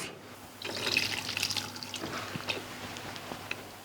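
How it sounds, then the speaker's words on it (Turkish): Salted chopped onions being rinsed with a glass of water, a short close pour and splash followed by soft trickling and a few drips as the water drains off. "Tuzla odumuz soğan üzerine bir su bardağı su döküp hemen yıkayıp süzeceğiz"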